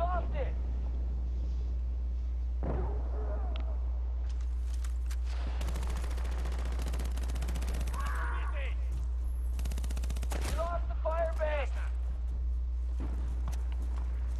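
Gunfire from the PS3 game Battlefield Bad Company 2 in an online Conquest match on Arica Harbor: scattered bursts and sharp shots, mostly mid-distance, with players talking over them.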